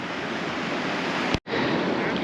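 Steady, loud ocean surf at Third Beach on the Olympic wilderness coast roars continuously with wind, broken by a sharp brief cutout near the middle, no voices present.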